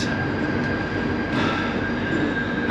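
London Underground train arriving at Mornington Crescent station, a steady loud rumble of the carriage with rail noise and a sustained high wheel whine throughout, no talk.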